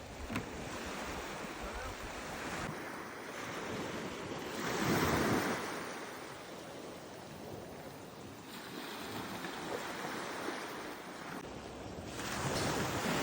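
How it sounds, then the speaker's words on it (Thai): Ocean waves wash onto a beach in France, steady surf rolling in and out with a louder crash near the middle and wind buffeting the microphone throughout; no talking. "เรามาถึงที่ชายหาดนะคะ"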